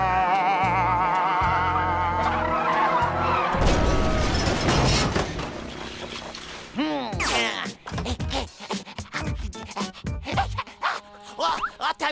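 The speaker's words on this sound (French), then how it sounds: "Il y a un camion qui est rentré dans un autre." Cartoon truck skidding and slamming into another truck: a long rising screech, then a loud crash with clattering debris and scattered bangs, followed by chaotic bumps and rattles.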